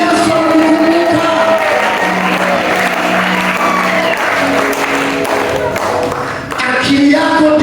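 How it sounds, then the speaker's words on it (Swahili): A church congregation at a night worship service applauds loudly and continuously, a dense wash of clapping and cheering voices that holds steady throughout. "Mchapie Yesu makofi"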